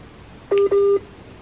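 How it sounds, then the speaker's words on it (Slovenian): Two short, clear telephone tones sound close together, the second longer, over a quiet background with no talking. "zovem vas, zvoni mi telefon, zovem vas."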